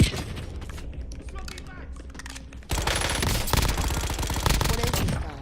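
Gunfire in a night-time shooter video game: a quieter stretch of scattered shots, then a sudden loud burst of rapid automatic fire that keeps rattling densely to the end, with some voices underneath.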